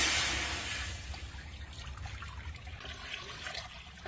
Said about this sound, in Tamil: தண்ணி கொஞ்சம் ஊத்துமா அந்த சட்டியில.